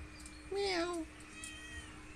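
A cat gives a single clear, rising-then-falling meow at close range over quiet background noise, with faint outdoor sounds around it.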